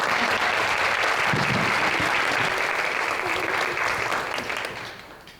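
Sustained applause from a crowd at a State of the City address, steady clapping that fills the space and then tapers off toward the end.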